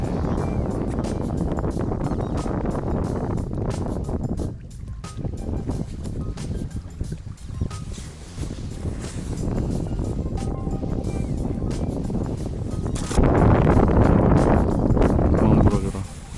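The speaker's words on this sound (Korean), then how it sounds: "근데 오후로 갈수록 바람이 너무 심해지네요." Strong wind buffets the microphone at a fishing spot, a loud continuous roar that eases briefly midway and then surges again near the end, while someone talks over it.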